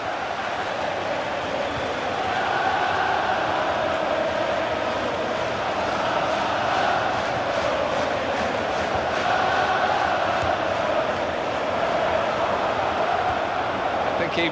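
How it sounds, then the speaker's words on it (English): A stadium crowd in the FIFA 15 video game at a Liverpool versus Crystal Palace Premier League match, a steady dense roar of applause and cheering that swells slightly and continues throughout, with a commentator speaking over it. "Even the opposition are applauding that one, that back heel."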